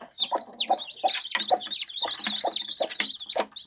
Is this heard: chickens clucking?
yes